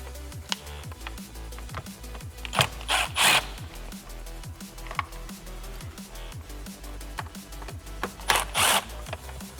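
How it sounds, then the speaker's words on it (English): Screws being undone on the steering column cover of a Toyota 79 Series, a close, rapid ratcheting click repeating steadily, with a few louder scraping bursts, no talking. "take off this column cover by undoing these two screws"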